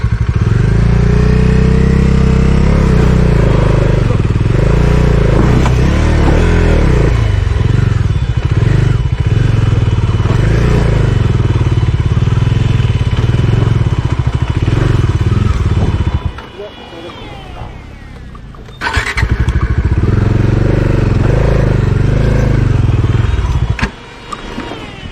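A Bajaj Dominar motorcycle rides off-road up a hill at Kolli Hills on half clutch. Its loud, close engine drones steadily, drops away briefly, then returns, while people talk over it.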